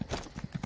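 Horse trotting in the video game ESO, about five distinct, evenly spaced hoof clops in quick succession, close and moderately loud.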